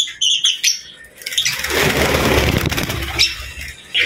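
Lutino opaline birds in an aviary give bright, close chirps, then a sudden burst of wing flapping rushes up loud and fades, followed by more chirps.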